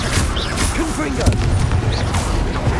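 Confringo explosive spells blasting in the video game Hogwarts Legacy, short booming bursts amid busy combat effects while a person speaks over them.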